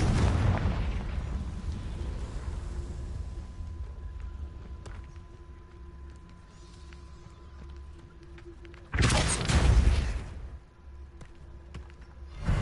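A Confringo spell fired in Hogwarts Legacy bursts in one loud, broad explosion. A quieter rumble and crackle come before it, and a low roar trails away afterward.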